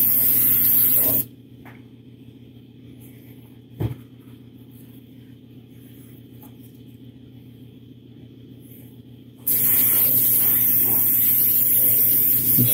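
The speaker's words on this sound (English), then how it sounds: "real broad, smooth, you know, movements with airbrush" An airbrush sprays paint onto a sculpted figure with a steady, close hiss that cuts off for several seconds and then resumes, over a constant low compressor hum.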